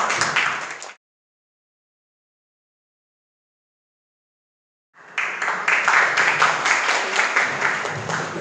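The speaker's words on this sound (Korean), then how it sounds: "박수로 맞아주시기 바랍니다." Audience at a Korean–Chinese traditional culture and arts exchange seminar applauds to welcome a speaker: a short clap burst, a few seconds of silence, then sustained, fairly loud applause from a room of listeners.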